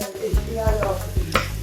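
Mushrooms and onions sizzle steadily in a large heated pan while a utensil scrapes and stirs them in several distinct loud strokes, close up and without speech.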